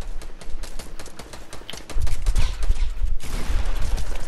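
Rapid gunfire in a shooter video game crackles in dense bursts, growing heavier and louder midway, with deep impacts under the shots and no talk.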